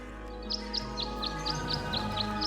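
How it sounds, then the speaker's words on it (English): Birds at a bird bath in the video game Tangle Tower sing a quick series of short, evenly spaced chirps over a soft, sustained musical backdrop. "The birds seem to like it. They're even singing a little tune."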